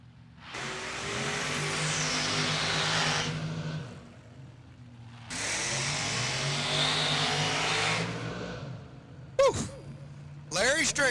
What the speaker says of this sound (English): we're also going to have a very, very unique looking combination dragster over here on the summit